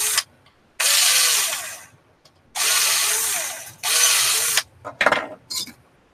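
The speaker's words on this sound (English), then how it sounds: "I'm just going to drill these out for the bigger bolt holes." Close, loud bursts of a power drill boring out bolt holes on a 3D printer frame upgrade, three long whining runs separated by pauses, followed by a few short stuttering pulses.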